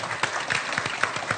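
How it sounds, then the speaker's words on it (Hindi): A short burst of studio applause during a cricket broadcast, steady and moderately loud clapping from a small audience for Kamran Akmal. "कामरान के लिए तालियां भाई"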